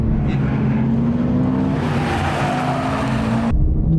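Porsche GT3 RS on the Circuit du Castellet race track, heard from inside with a loud, sustained engine drone that climbs in pitch through the revs before cutting sharply as the driver shifts, with road and tyre rumble underneath.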